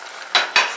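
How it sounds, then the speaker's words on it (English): Risotto sizzling in a pan, heard as two loud, close bursts of frying hiss with a softer steady sizzle between them and no talking. "So it's sizzling perfectly though, bubbling."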